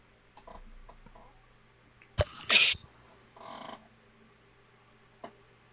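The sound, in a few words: sneeze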